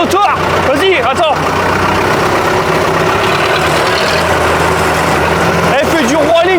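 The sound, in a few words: farm tractor engine running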